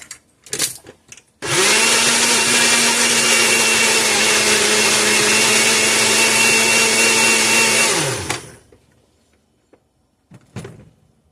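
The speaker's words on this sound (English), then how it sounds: "I'm blending these in the blender here" An electric blender whirs strawberries for frozen custard in one loud, continuous burst of about seven seconds, starting and winding down abruptly, with a few faint clatters before and after.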